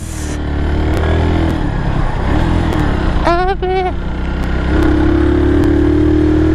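A Kawasaki W175 motorcycle engine drones steadily while riding, with throttle swells rising near the end, close and loud under wind rush; a short burst of horn-like tones cuts in midway.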